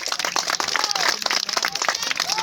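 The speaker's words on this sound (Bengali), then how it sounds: "হাততালি সবাই" Dense crowd clapping fills an outdoor school annual sports event in Bengal, steady and continuous with a few whistle-like tones and faint voices mixed in.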